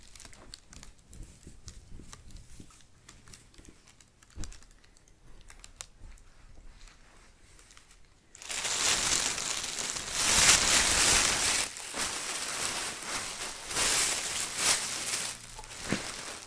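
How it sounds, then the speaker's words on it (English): A rolled lime green t-shirt is pushed into a plastic bag, giving a loud, sustained crinkling and rustling of plastic close by that begins abruptly after a quieter stretch of soft handling noises. "pack this lime green t-shirt, roll it, and then put it in the plastic bag."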